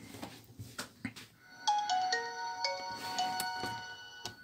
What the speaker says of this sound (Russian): Включаем телефон.